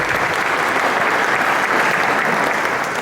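A church congregation bursts into loud, sustained applause, a steady close wash of many hands clapping that stays strong from start to finish.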